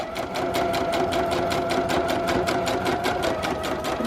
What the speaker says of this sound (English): I just sew all the way down